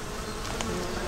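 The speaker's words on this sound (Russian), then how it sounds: "О, какие-то мухи летают." Flies and horseflies buzz in a marshy forest, a close, continuous insect drone filling the short moment with slight flickers of louder wingbeats.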